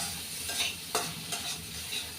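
Tomato frying in a pan with other vegetables, a soft continuous sizzle with a few brief stirring scrapes and crackles, no talking.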